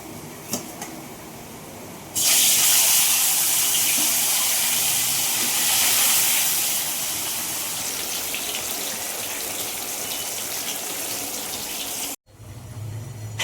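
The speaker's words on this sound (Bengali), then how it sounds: "মাছগুলো আমার সব ভাজা হয়ে গেছে" Fish fry in salted oil in a wok, and a loud, steady hiss of spattering oil jumps in and holds for several seconds before easing off, then cuts out briefly near the end.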